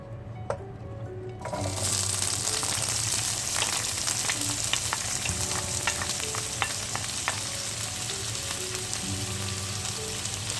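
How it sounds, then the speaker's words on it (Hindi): Two chopped onions hit half a cup of hot oil in a pan for an aloo bhujia, bursting into a steady, loud sizzle after a quiet start, with occasional stirring scrapes and pops throughout. "अब उसमें डालें 2 प्याज चॉप की हुई।"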